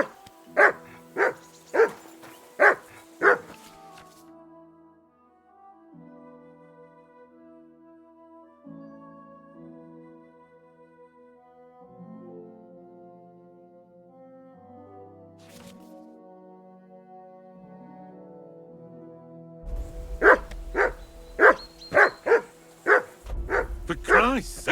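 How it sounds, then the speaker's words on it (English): In the video game Kingdom Come: Deliverance 2, a dog lets out a run of about five barks, then soft tonal background sound follows, and a second volley of insistent barking comes near the end. "Henry! Whistle at that mutt of yours to stop barking!"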